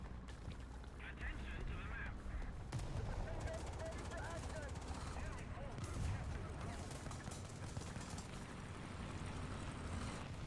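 Gunfire aimed at the player in War Thunder, a dense, continuous low rumble of shots and engine noise at a fairly faint level, steady throughout with no clear separate bursts.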